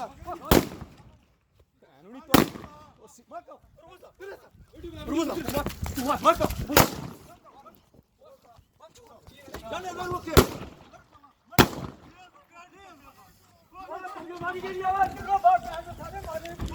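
Several sharp, loud gunshot-like cracks ring out at irregular intervals, with agitated voices shouting in between.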